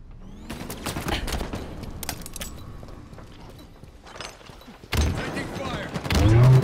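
Halo Infinite gunfire rattles in rapid bursts of shots amid a multiplayer Oddball match, mid-distance at first, then a sharp, loud flurry near the end, with game voice callouts mixed in.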